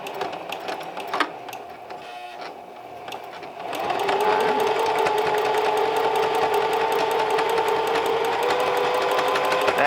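A Singer Heavy Duty 4411 sewing machine stitches a seam in scrap fabric. A few clicks and handling sounds come first, then the motor runs up into a steady, fast, close mechanical whirring with rapid needle chatter.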